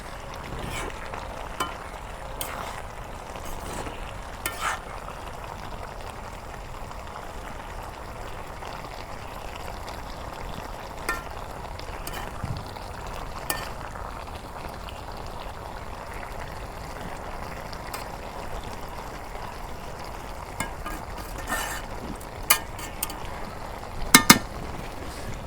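Taro stolons fry with dried fish and jackfruit seeds in a village kitchen pan, giving a soft, continuous sizzle with scattered light clinks and scrapes of stirring, a few sharper knocks near the end.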